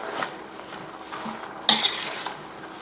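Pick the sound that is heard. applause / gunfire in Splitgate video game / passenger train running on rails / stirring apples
stirring apples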